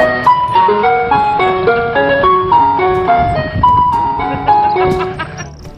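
A toy ice cream truck plays its chiming jingle, a bright electronic melody of stepped notes that sounds loud and close and runs continuously throughout.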